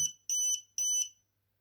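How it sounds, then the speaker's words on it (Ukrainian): Two identical high-pitched electronic beeps from an FCHAO 1200W sine-wave power inverter alarm after shutting off on high battery voltage, each about a quarter second long, evenly spaced in an otherwise quiet room. "Вмигає, що батарея занадто висока, вимкнувся, пищить"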